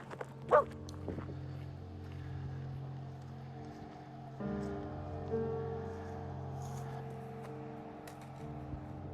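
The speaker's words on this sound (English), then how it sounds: "Wouldn't be a through hike without them barking road walking dogs." Dogs bark along a rural road during a long mountain thru-hike, with a few sharp nearby barks early and fainter yips and whimpers over a steady outdoor hum.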